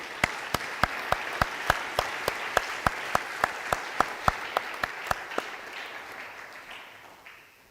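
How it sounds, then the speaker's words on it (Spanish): Sharp, evenly spaced claps ring out at a church congregation service, a steady rhythmic beat of about three claps per second that stops after roughly five seconds and leaves a fading room tail. "Démosle un aplauso al Señor."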